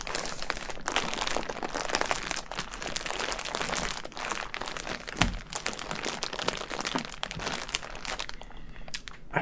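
Plastic packaging crinkles and crackles up close during an ASMR unboxing, a dense, continuous rustle with sharper crunches scattered throughout and no talking.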